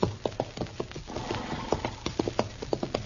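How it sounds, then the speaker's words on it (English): Horse hooves clop along a dusty Kansas trail in an old radio western, a steady uneven rhythm of close, loud clip-clops with a brief whinny-like sound in the middle. "Darn horse."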